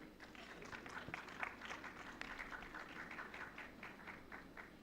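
Audience applause at a food processing startup conference as the first speaker is invited on stage: steady, dense clapping from a crowd filling the whole stretch, moderately loud and even.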